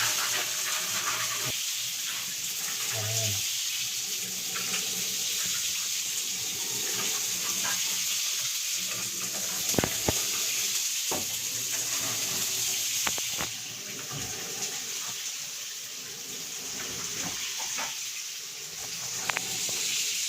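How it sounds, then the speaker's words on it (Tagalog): Shower water runs steadily in a tiny house bathroom, a continuous hissing spray splashing loudly and close throughout, with occasional small knocks. "Bubuksan ko yung shower."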